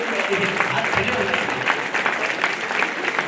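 Audience applause at an evening event following a Ram temple consecration festival: a steady wash of many hands clapping, moderately loud and continuous, with some voices underneath.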